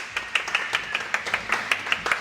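A small group claps in a round of applause for a podcast guest, about a dozen distinct, fairly even claps at close range with no talk over them.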